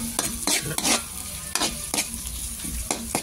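Onion, garlic and ginger sauté in a pan for chicken feet adobo, a steady close sizzle broken by repeated scraping stirs of a spatula against the pan.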